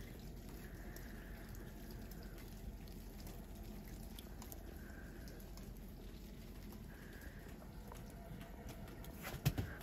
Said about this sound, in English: It's kind of a rain mix right now.